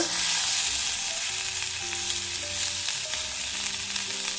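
Partly boiled beetroot, carrot, papaya and potato sizzle hard in a wok of oil reused from frying fish. The crackle is steady and close, broken by light scrapes of stirring.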